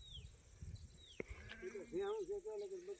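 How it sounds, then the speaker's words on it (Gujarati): Goats in a herd bleat nearby, a wavering bleat rising clearly near the end, mixed with rustling, other animal sounds and someone talking. "આ બકરા જોવો"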